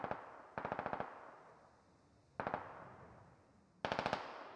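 Three bursts of automatic gunfire in the military shooter game Squad, each a rapid string of sharp shots with a long decaying echo, spaced a couple of seconds apart and heard from a distance.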